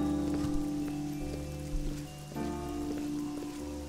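Rain falling in the video game Oblivion, a steady patter under sustained tonal game music, moderately loud and continuous, with no voices.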